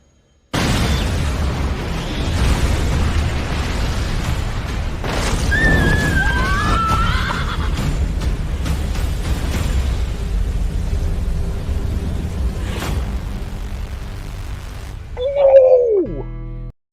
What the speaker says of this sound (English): Levi better have escaped that explosion